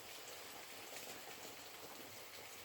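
Steady rain falls outside a woodshop on a wet June day, a constant even hiss of drops with no breaks and no voices.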